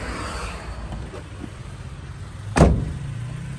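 A Toyota Hiace long-wheelbase commuter bus engine cranks on the starter and catches with a short burst near the end, then settles into a steady idle, close and clear with no talk.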